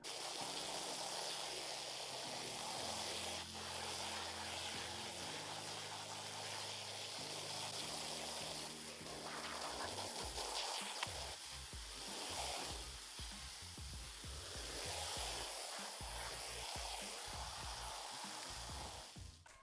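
Water rinses a car floor mat in a continuous loud spray and hiss, with a steady drone underneath for the first half and splashy gushing after it stops.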